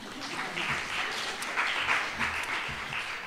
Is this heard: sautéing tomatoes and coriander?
no